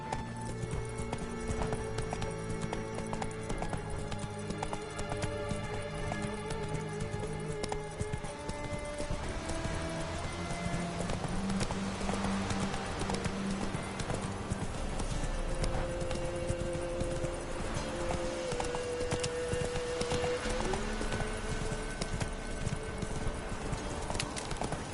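Horse galloping in The Witcher 3 video game, steady rhythmic clip-clop hoofbeats throughout, close and continuous, with game music tones and occasional faint voices layered underneath.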